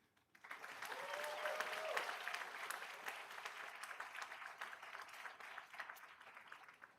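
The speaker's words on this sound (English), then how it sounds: "let's give one more round of applause to our incredible student athletes" Applause from the audience at a school board meeting honoring student athletes, a steady wash of many hands clapping at moderate distance, with a brief tone near the start and tapering slightly at the end.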